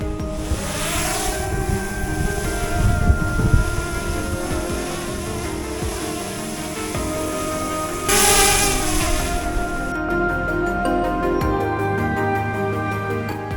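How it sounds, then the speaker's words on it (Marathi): A drone flies over Pandavgad fort near Wai, Satara, its steady whirring drone mixed with strong wind rushing across the microphone, with a brighter surge of noise midway. "चला ड्रोनला फ्लाय करू."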